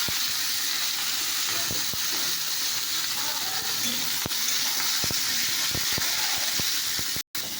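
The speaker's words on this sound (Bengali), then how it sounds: "একটু পাঁচফোড়ন দিয়ে দিয়েছি" Continuous sizzling of panch phoron spices in hot oil, close and steady, punctuated by sharp clicks and taps of a utensil, with a brief dropout near the end.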